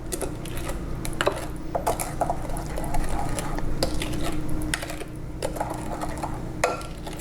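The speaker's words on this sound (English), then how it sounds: "I'm going to give this a stir. We want this all combined really well." Pumpkin zucchini bread batter being stirred in a bowl, with repeated light clinks and scrapes of a utensil against the dish at an uneven, brisk rhythm over a low background hum.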